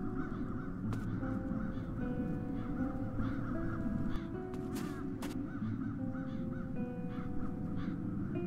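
A raven caws repeatedly in Satinavs Ketten, harsh croaking calls recurring every second or so over a dense, rumbling background ambience, with no talk.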